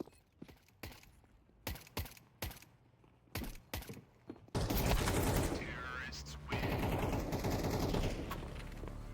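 Gunfire from a rifle in Counter-Strike 2, first as several short separate bursts and then as a long loud stretch of sustained automatic fire, with a voice briefly talking over it.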